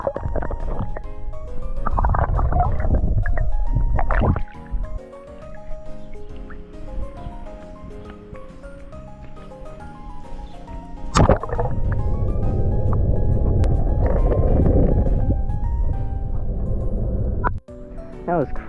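Muffled underwater rumbling and gurgling from a camera submerged and moved through water while swimming outdoors, with sloshing bursts and a couple of sharp knocks against the housing.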